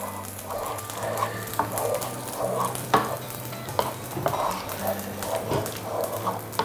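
A spoon stirs tempering into a Kerala roasted-coconut chicken curry in a pan, with soft sizzling and repeated scraping knocks at an irregular rhythm, close and moderately loud.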